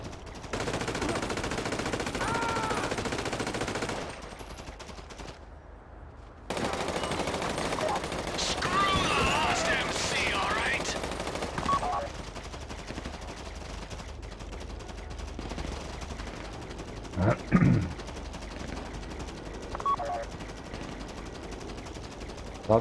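Assault rifle and shotgun fire in the video game GTA V, a muffled stream of shots under steady game noise, with a few sharper reports later on.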